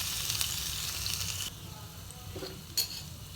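Garlic and cumin sizzle in hot oil in a steady hiss that drops down after a moment, with a few faint utensil clicks against the pan, close and quiet.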